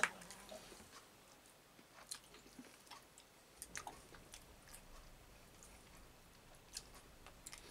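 Faint, close mukbang chewing of pasta with pink salmon: soft wet bites and small crunchy clicks scattered irregularly through the clip, with no talking.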